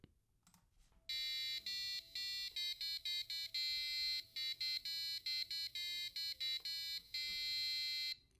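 An Arduino-driven piezo buzzer beeps out a song melody as a run of shrill, stepped tones with short gaps between notes, fairly quiet over faint room noise.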